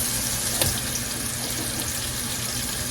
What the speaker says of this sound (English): Because I just want them to sear like really fast.